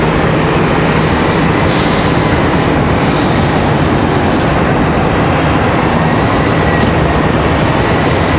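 An American Airlines Boeing 737-8 departs Charlotte Douglas International Airport on flight 3178 to Chicago, its engines a loud, close, continuous roar that stays powerful and unbroken from start to finish.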